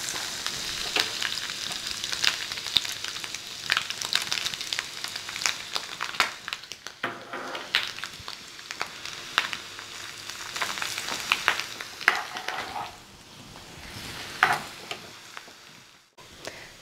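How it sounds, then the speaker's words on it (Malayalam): Grated coconut fries in hot oil, giving a steady crackling sizzle with scattered sharp pops and occasional scraping stirs, close and continuous throughout. "ഇനി ഈ എണ്ണയിലേക്ക് ഞാൻ ഈ തേങ്ങ ഇടുകയാണ്"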